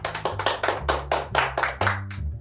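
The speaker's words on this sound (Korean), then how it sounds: "그동안 임시반장이었던 영웅이한테 박수." A classroom of students claps for their temporary class president, about nine firm, rhythmic group claps in steady time before trailing off.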